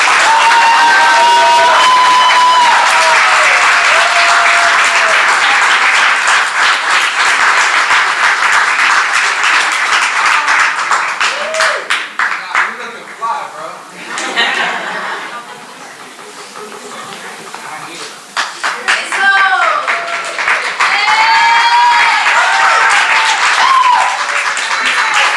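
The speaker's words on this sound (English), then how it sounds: "Please give a round of applause for Christian West." A graduation audience applauds and cheers for graduate Christian West, with loud sustained clapping and whoops that dip briefly midway before swelling again.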